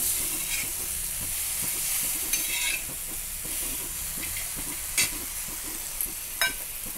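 Peanuts roast in a pan with garlic and cumin while being stirred, giving a steady close sizzle and hiss broken by occasional scraping clicks of the spoon against the pan.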